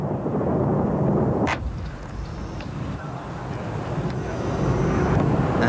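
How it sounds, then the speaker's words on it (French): Anti-aircraft fire and bombing over Baghdad in 1991: a loud, continuous rumbling roar with one sharp crack near the start, distant booms blending into a sustained wash of noise. "à Bagdad, les batteries anti-aériennes déclenchent un feu d'enfer."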